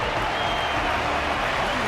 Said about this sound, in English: Their constant applause is a salute to this resilient Balabagian fighter.